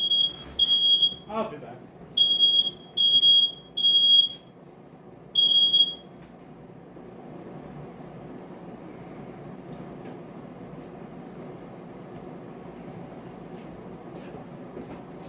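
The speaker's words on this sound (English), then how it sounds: "Smoke detector." A kitchen smoke detector going off while meatballs cook in the oven, sounding five or six loud, piercing high beeps in uneven bursts over the first six seconds, then falling silent. A voice speaks briefly amid low room noise.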